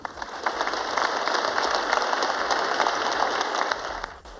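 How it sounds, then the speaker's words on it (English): Audience applause for a citizens' jury presenting to the Premier: a dense, steady spread of many hands clapping at fairly close range for about four seconds, thinning abruptly at the end. "give you a round of applause"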